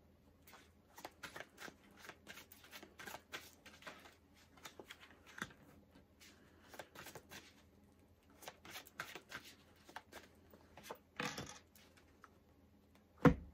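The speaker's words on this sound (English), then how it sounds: "Let's pull these cards." Oracle cards from a Ravenswand Oracle deck shuffled and pulled by hand, a run of soft, quick papery riffles and taps, close and quiet, with a louder thump near the end.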